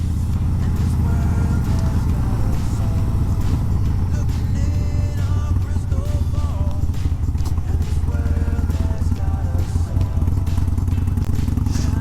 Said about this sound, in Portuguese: O barulho desse 103, um verdadeiro motor clássico da Harley